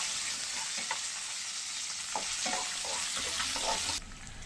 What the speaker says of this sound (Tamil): ஃபர்ஸ்ட் இந்த ஆனியன் நல்லா வதங்கட்டும்.